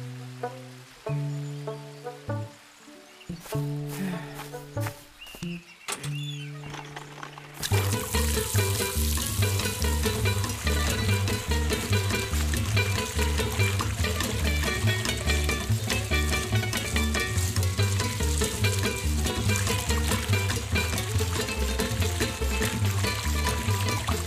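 Water gushes steadily from an open tap, a continuous loud rushing stream that starts abruptly after a few seconds of quieter clatter, with music playing underneath throughout.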